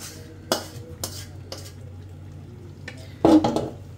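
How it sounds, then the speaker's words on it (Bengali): Meat being stirred into pulao in a cooking pot, with sharp clanks of a spoon against the pot at regular intervals and a louder scraping burst near the end over a low steady hum. "তো এখন আমি এই যে মাংসটা মানে মিক্স করে নেব।"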